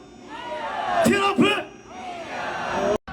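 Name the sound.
protesters shouting and screaming in Seoul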